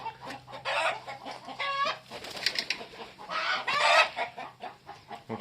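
Restless hens clucking close by in a coop, a string of agitated squawks and rising cackles coming in bursts with short gaps, moderately loud.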